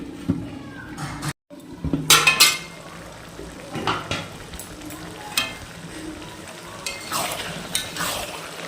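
Eggplant frying in a pan for North Bengal-style sidol, with a steady sizzle broken by clattering stirs and scrapes of a utensil against the pan, loud bursts coming in short clusters.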